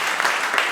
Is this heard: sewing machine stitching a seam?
no